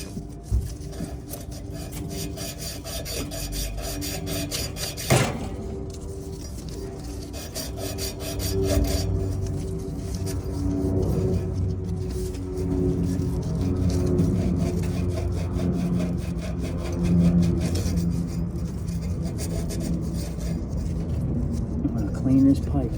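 A copper pipe end being cleaned and deburred during a Rheem condenser relocation, a steady close scraping and rasping that runs throughout, with one sharp knock early on and people talking over it.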